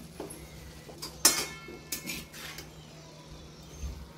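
A metal spoon stirs moong dal into dill leaf vegetable in a pan, giving a few scattered clinks and scrapes against the pan, with one sharper clank near the start, over a quiet background.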